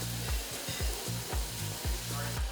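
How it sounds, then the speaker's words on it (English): Peppers sizzling on a Korean barbecue grill alongside wagyu beef bulgogi, a steady close crackle broken by repeated low thumps and scraping as the pieces are moved and stirred; no talking. "We'll put the peppers on the grill."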